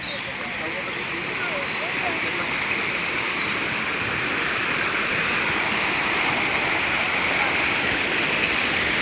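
Water flows steadily from sources at a temple, a continuous broadband rush like a stream or small fall running close by and loud, unbroken for the whole stretch.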